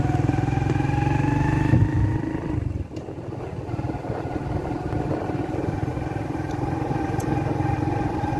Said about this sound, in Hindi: वो मेरी बाइक खड़ी है